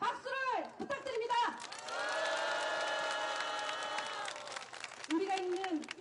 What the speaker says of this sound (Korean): 다시 한번 힘찬 박수를 부탁드립니다